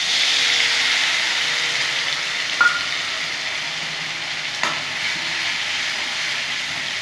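Onion paste sizzles steadily in hot oil in a pan with turmeric, a loud continuous hiss with a couple of brief sharp spatters partway through.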